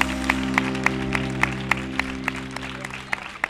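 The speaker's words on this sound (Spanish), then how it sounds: "Un aplauso para Gema, por favor." A studio audience at a live comedy show applauds for Gema, a steady wash of clapping with regular sharper claps standing out, fairly close, under a sustained low musical tone.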